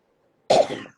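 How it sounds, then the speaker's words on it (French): One short, sharp human cough, close and fairly loud, rising abruptly and fading within half a second in a quiet room with no talk. "tu tousses beaucoup"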